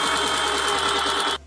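A sewing machine runs in a fast, steady rapid-fire stitch while sewing the brim of a denim bucket hat made from old jeans, loud and close, stopping abruptly at the end.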